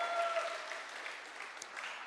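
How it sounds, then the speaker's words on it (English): A church congregation claps together in praise, a steady, fairly even wash of applause with no voices on top, ongoing for the whole stretch. "Come on, let's give the Lord a big clap."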